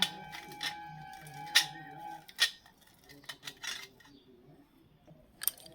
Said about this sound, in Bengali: এইভাবে কিন্তু আমি ডিমটাকে গ্রেট করে নেব।